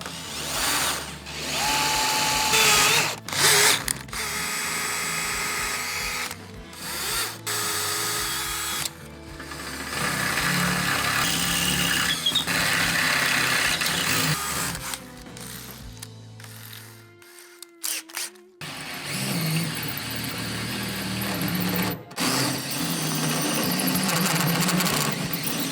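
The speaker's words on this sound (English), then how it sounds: "Get our center hole drilled." Power drill boring holes through the metal body of a Smokeslinger grill to mount a OneGrill rotisserie motor bracket, with several long, loud whirring bursts broken by short pauses and a brief quiet gap near the middle.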